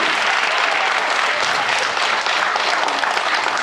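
Loud, steady applause from a theatre audience after a children's movement-theatre performance, dense clapping that continues without a break from start to finish.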